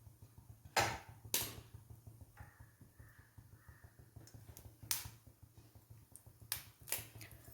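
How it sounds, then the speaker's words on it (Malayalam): Mustard seeds pop and crackle in hot oil, sharp scattered snaps at an irregular rhythm over a low steady hum. "കടുക് പൊട്ടി വരുന്നുണ്ട്"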